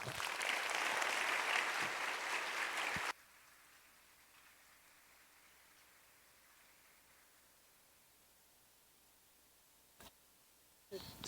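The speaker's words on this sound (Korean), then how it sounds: "우리 목사님 환영하는 마음으로 우리 큰 박수로 모시겠습니다." A church congregation breaks into loud, dense clapping for about three seconds, then it cuts off to near quiet with a couple of faint knocks near the end.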